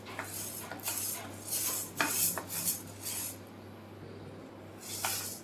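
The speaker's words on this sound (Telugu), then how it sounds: "ఈ మినపప్పుని మీడియం ఫ్లేమ్లో పెట్టుకొని బాగా ఫ్రై చేసుకోవాలి." Urad dal frying in a pan over a medium flame, stirred with a metal utensil; repeated scraping and clinking strokes over a soft continuous sizzle and low hum, with no talk.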